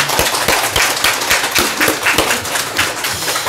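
A church congregation claps together in praise during a Sunday service, loud close clapping with a rhythmic, roughly unified beat that carries on steadily without speech.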